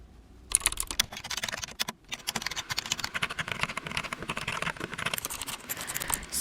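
Rapid, steady typing on a computer keyboard: a close, continuous patter of crisp key clicks with a brief pause near the start and no voices.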